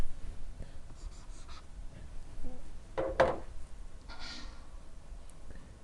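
Marker or chalk writing on a board during a math lesson: a few short scratchy strokes in quick bursts, close and fairly quiet, with a brief pause between groups of strokes.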